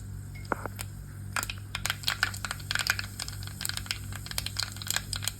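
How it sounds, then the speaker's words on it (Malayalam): Mustard seeds splutter in hot sesame oil at the start of a white lemon pickle, a dense stream of sharp pops and crackles over a low, steady sizzle. "അതിലേക്ക് നമുക്ക് കടുക് ഇട്ട് കൊടുക്കാം."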